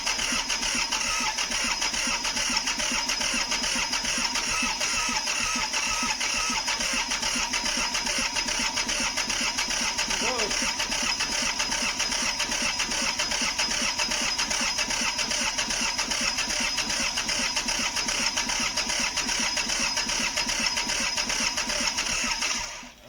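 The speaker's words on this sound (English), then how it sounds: "I'm gonna burn the starter up." A John Deere tractor cranks on its starter at length without catching, a steady rapid mechanical churning that stays loud and close throughout.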